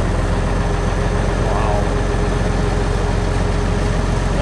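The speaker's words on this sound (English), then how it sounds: "That's a tractor." Massey 65 diesel tractor idling at a farm auction, a steady, continuous low engine rumble that runs throughout while a voice briefly speaks over it.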